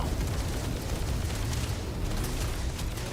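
A sustained, dense rumbling roar from a blast in the sci-fi game Starfield, loud and steady throughout with broadband crackle and no clear separate bangs.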